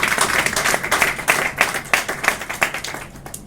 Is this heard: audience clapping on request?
yes